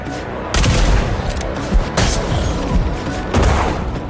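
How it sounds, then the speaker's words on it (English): Flashbang grenade goes off in the action game Replaced amid bursts of gunfire, several sharp loud bangs and booms at irregular intervals over a busy combat background. "Flashbang?"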